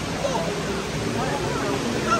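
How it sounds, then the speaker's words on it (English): The indoor waterfall at Dubai Mall gives a continuous rushing, splashing roar. It blends with a murmur of crowd voices in the busy mall. "Look how high it is! It is a waterfall."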